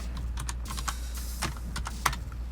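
Quick, uneven bursts of keystrokes on a computer keyboard, with light clicks and a brief pause, close to the microphone over a low steady hum.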